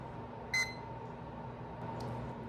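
A kitchen timer gives one short, clear electronic beep, then a fainter chirp a moment later, both over a steady low hum in a quiet kitchen.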